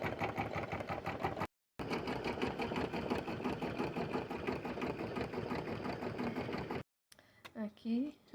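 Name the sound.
sewing machine stitching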